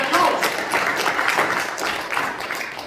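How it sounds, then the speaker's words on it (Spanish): Church congregation applauding together at a Christian service, a steady wash of many hands clapping that holds loud and even through the whole stretch without speech over it. "¿Le pueden hacer un aplauso al Señor?"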